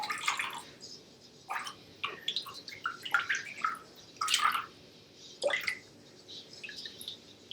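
Makeup brushes are swished and rinsed in a basin of water, producing soft intermittent splashes and drips in short bursts, close and quiet.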